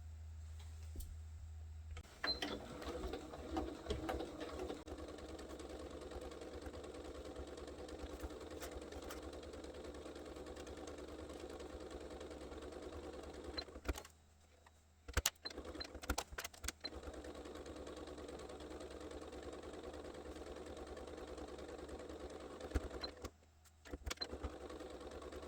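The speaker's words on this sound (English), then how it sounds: "I'm going to take it over the sewing machine and I'm going to sew all the way around" A sewing machine stitches around a foldaway fabric shopping bag, running in a steady mechanical whir with short pauses and restarts, moderately loud and alone, with no talking.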